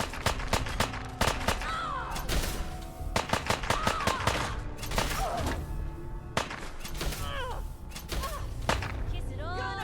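Rapid gunfire rattles through a Fallout 4 firefight, with dense bursts of automatic shots and single cracks, loud and close, alongside impacts and shattering debris.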